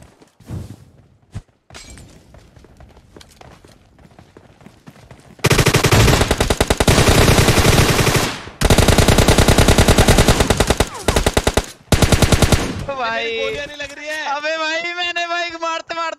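Rapid automatic gunfire in a video game roars in long loud bursts, broken by short pauses, ending in a warbling electronic tone; a voice is heard faintly before the shooting.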